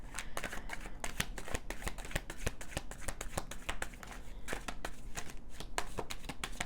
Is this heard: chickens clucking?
no